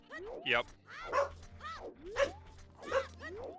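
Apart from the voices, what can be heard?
Shetland sheepdog barking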